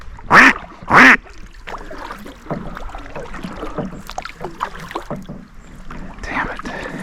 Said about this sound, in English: That was 5 black ducks.